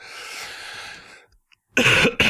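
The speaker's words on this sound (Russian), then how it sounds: "Вы уж простите, что кашлю" Two sharp, loud coughs close to the microphone after a stretch of noisy rustling and a brief pause, the second cough shorter than the first.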